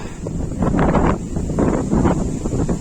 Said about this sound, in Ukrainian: отакі пориви вітру